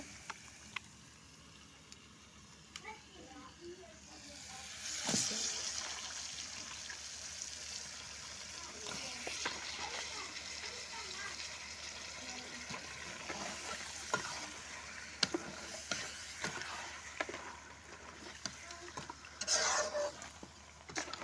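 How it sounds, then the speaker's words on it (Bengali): Duck meat goes into a small pan at an outdoor picnic and is stirred in hot oil. A soft, continuous sizzle runs throughout, with faint scraping and occasional clinks of a spoon against the pan. "এখন এই যে হাঁসের মাংস দিয়ে দেব"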